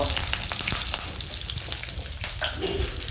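Cumin seeds and curry leaves hit hot oil in a pan, giving a loud, close, crackling sizzle with sharp spattering pops throughout and no talking.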